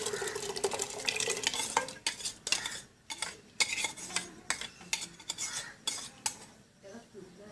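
Milk-soaked sago goes into a cooking pot for sabudana kheer, with scraping and clinking of a metal spoon against the pot in a run of close, uneven stirring strokes.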